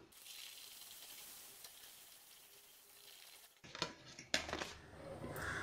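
Sattu puris frying in hot oil give a steady, quiet sizzle and hiss that builds into louder bubbling with a few clinks and scrapes of a utensil against the pan near the end.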